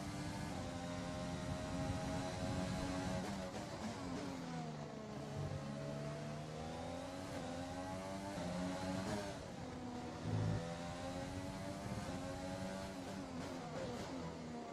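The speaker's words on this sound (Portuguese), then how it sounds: "O motor Renault tá falando mais alto" Formula 1 cars from the F1 2020 video game at the Australian Grand Prix, with Renault and Honda engines howling. A continuous high-revving scream with rising and falling gear-shift sweeps, fairly quiet and with no talk over it.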